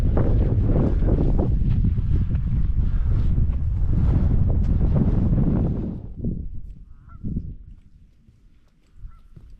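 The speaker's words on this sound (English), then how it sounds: "the wind's starting to really cut across and the temperature's dropped" Cold outdoor wind buffets across an open landscape on a long military march, loud rumbling gusts that dominate at first and then ease into quieter, intermittent blowing.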